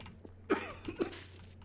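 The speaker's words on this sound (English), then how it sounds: "I just coughed on your neck." A few quick, faint coughs during Garry's Mod hide and seek gameplay, a short burst of two or three throaty bursts over quiet background hum.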